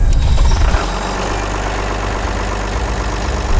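A large diesel engine idles steadily and loudly nearby, a deep continuous rumble with no voices.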